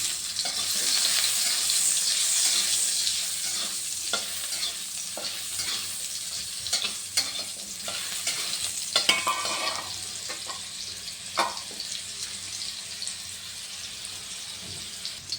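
Potatoes frying in hot oil, a continuous crackling sizzle with scattered pops and occasional stirring scrapes, close by and without speech.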